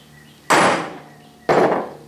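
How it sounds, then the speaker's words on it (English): A copper or brass hammer strikes a metal punch twice to knock holes while mounting a Wilton bullet vise: two sharp, loud, close blows about a second apart, each ringing briefly before fading. "And I will punch these two holes."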